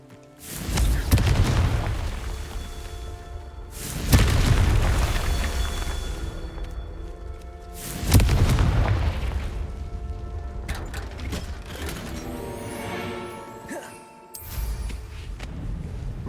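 Repeated Confringo fire-spell blasts in Hogwarts Legacy, three deep booming explosions about four seconds apart, each followed by a rumbling decay, then softer magical crackles and a final sharper burst near the end.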